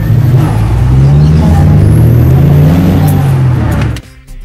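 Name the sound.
supercharged small car engine revving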